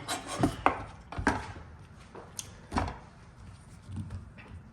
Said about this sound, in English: now we'll go peel off the plantains